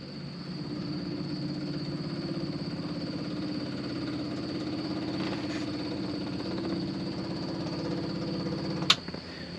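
An old Dodge engine with rod knock, sitting for years, idles steadily with a rhythmic low rumble and knock, ending in a brief sharp click.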